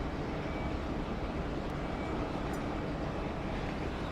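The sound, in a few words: Jetstar plane on approach to Sydney runway 34 left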